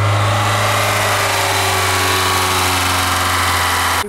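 A Lada Niva engine running just after starting, its fuel system and control unit having taken in water during a river crossing: a loud, close, steady idle hum with a constant low drone and no voices.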